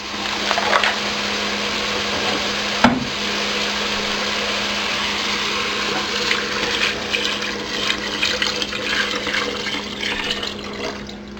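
Water pours into a pot of fish soup with fish sauce, giving a continuous close splashing rush with one sharp knock early on and a steady hum underneath.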